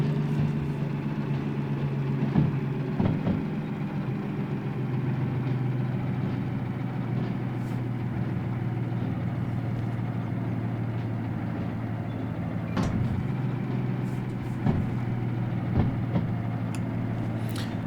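Locomotive engine in the train simulator Derail Valley, rumbling steadily like a car engine at low speed, a constant droning idle with a few sharp clanks and knocks scattered over it.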